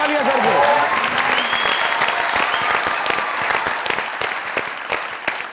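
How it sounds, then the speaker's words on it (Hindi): Loud applause from a comedy show studio audience greeting a guest, dense clapping throughout with a voice talking over the start and crowd noise beneath. "जोरदार तालियां सर को।"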